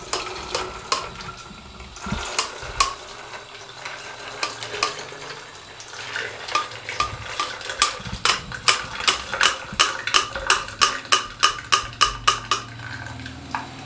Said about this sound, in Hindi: साथ में हम इसको स्ट्रेनर की मदद से छान लेंगे इस तरीके से